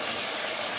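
Ginger garlic paste and crushed green chilies sizzle in a hot pan for beef karahi gosht, a steady, close, moderately loud hiss with no talk.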